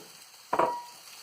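Potato wedges hit hot ghee in a pan over a high flame, a single short, faint sizzle that fades quickly into a low background hiss.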